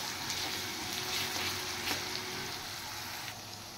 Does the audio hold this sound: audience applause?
no